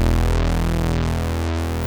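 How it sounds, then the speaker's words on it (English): Korg Volca Keys synth holding one note, a triangle-wave LFO sweeping the filter cutoff, giving a smooth rhythmic wah-like rise and fall about once per second, loud, steady and alone. "while I could use the LFO to affect the filter cutoff"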